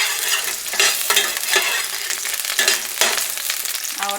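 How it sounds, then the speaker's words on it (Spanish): Chopped onion sizzles and crackles in oil in a frying pan on a stove, a bright continuous frying hiss with scattered pops and stirring scrapes, close and loud with no talking. "la cebolla es 2 pedacitos así. Lo vamos a dejar que se dore un poquito."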